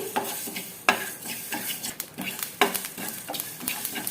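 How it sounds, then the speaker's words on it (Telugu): Fenugreek seeds being stirred as they dry-roast in a pan, with a steady soft scraping and rattling of seeds against metal and sharper utensil knocks around one and two and a half seconds, close and alone. "ఇప్పుడు ఈ మెంతుల్ని కలుపుకుంటూ లైట్ గోల్డెన్ కలర్ వచ్చేంత వరకు వేయించేసుకోవాలి"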